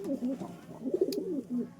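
A domestic pigeon cooing close by: a short run of soft, low, throaty coos in quick succession, fairly quiet and alone.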